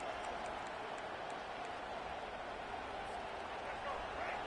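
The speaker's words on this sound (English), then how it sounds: "Listen to this crowd just shaking the girders of this place, trying to help their defense" A stadium crowd at a college football game roars continuously, a dense, even, unbroken wall of cheering that stays loud throughout with no distinct individual voices standing out.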